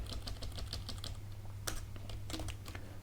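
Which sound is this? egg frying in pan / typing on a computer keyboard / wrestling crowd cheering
typing on a computer keyboard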